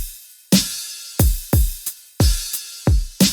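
FL Studio drum pattern for a classic rap beat with cymbals layered back in, so bright sustained cymbal wash sits over punchy kicks and snares in a steady looping rhythm.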